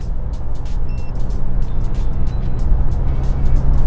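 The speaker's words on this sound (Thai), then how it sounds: "อันนี้เกียร์5นะครับ เกียร์5นะครับ รอบไต่ขึ้นไปเรื่อยๆนะครับ" All New Isuzu 1.9 pickup engine under heavy load in fifth gear, revs climbing steadily as if overtaking a truck on the road; a continuous loud low drone runs throughout with faint traces of speech.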